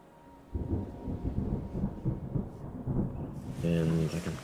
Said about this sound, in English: Let's let the rain do a bit of cleaning up before we continue.